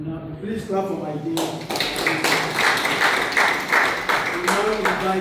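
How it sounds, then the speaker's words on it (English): An audience at the closing ceremony of a short course in household water treatment systems breaks into brisk, fairly loud clapping after a voice finishes speaking, with talking continuing faintly beneath it. "Please clap for my dear."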